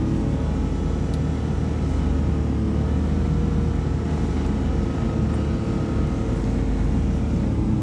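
A Suzuki Carry mini truck fitted with tracks climbs snowy hills in first gear, low range, its engine a steady low drone with a constant rumble, loud and close throughout.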